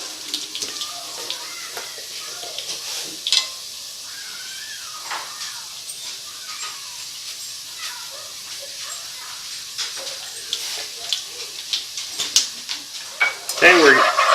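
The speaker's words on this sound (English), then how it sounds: "we're told that we need to saute these for 1 to 2 minutes." Spices including cumin and salt being sautéed in a pan for chana masala give a soft, steady sizzle with scattered scraping stirs and clinks, quiet and close, growing busier near the end.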